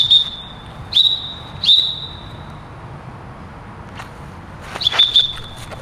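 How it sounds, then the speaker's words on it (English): A dog training whistle sounds three sharp, short blasts in quick succession, then a pause and a fourth blast, stopping a retriever partway through a recall. The blasts are loud and piercing over faint outdoor background noise. "stop him halfway with a whistle blast"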